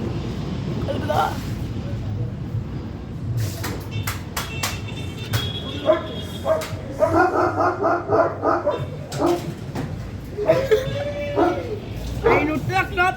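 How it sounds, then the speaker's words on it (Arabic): A dog barking in repeated sharp yaps and woofs with some whimpering, close by, mixed with people talking throughout. "الكلب ده"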